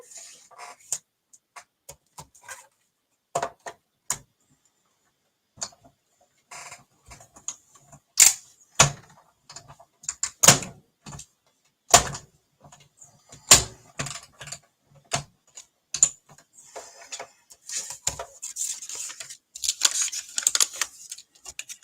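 A manual die-cutting machine cranks card stock through in a long run of sharp clicks, ratchety ticks and small knocks, irregular and close, growing busier and denser toward the end, with no talk.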